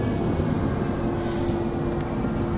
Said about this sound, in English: Now I'm going to take the train.